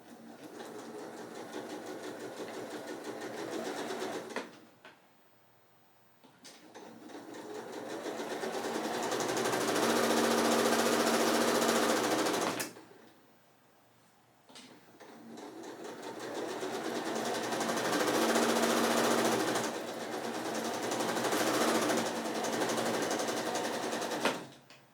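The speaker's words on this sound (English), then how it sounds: "you're just going to sew those a 1/4 inch seam down the side, either side" A sewing machine runs a quarter-inch seam along a quilt block, with loud, close, steady motor whir and rapid needle chatter in three long runs broken by brief quiet pauses.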